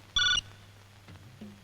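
A telephone rings once, a short electronic trill heard alone, followed by quiet low voices, in a Hindi-dubbed South Indian action film scene about a call from Delhi.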